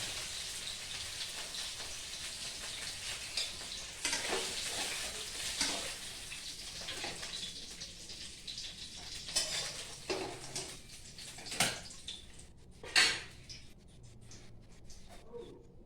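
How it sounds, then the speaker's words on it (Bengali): Boiled potatoes, already seasoned with turmeric and salt, sizzle lightly in a pan while being fried for a simple katla fish curry, a steady hiss broken by occasional louder scrapes and stirring sounds. "এখন আলুটা একটুখানি ভাজা করবো"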